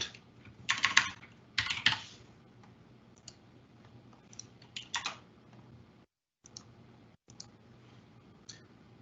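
Typing on a computer keyboard during a Microsoft 365 demo: two dense bursts of rapid key clicks near the start, then sparser scattered keystrokes and brief pauses, close and moderately quiet with no talking.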